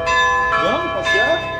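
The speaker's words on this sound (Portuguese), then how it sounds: "O sino tocando, sabe o que ele tá falando?" A church bell rings with a sustained, resonant metallic tone that carries through the whole moment, while voices and a whining sound rise over it.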